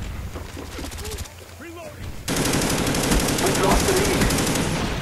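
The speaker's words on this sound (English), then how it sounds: "Wow, it took that many shots to kill you." Automatic weapon fire in Call of Duty: Black Ops multiplayer, dense rapid bursts that swell louder and fuller in the second half, with a player talking over the shooting.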